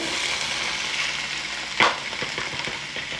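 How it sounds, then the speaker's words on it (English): Vegetables sizzling in a skillet, a steady, loud frying hiss with a brief clatter partway through as the pan or food is moved. "we're going to put the vegetables over in the skillet."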